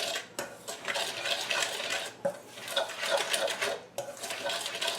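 Blueberry cobbler batter of flour, sugar, baking powder, lemon zest and salt mixed by hand in a bowl, rapid rhythmic clinking and scraping of a utensil against the bowl in close bursts with brief pauses.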